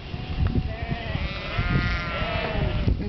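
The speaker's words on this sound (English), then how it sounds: "A sheep." A flock of sheep crowds a road outside Dotsero, Colorado, with several loud, wavering bleats overlapping close by over low rumbling background noise.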